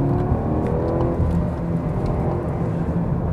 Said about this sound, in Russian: Но если газку дать, сейчас у нас будет участочек